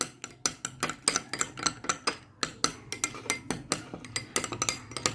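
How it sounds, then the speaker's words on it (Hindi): Homemade saffron face serum stirred briskly in a small container, a spoon clinking against the sides in quick, steady repeated taps close up, with no talking. "इसे अच्छे से मिक्स करना है आपने,"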